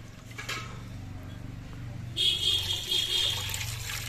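Rice is washed in water. Soft sloshing and trickling start quietly, then a brighter splashing rinse takes over partway through, with low background hum beneath.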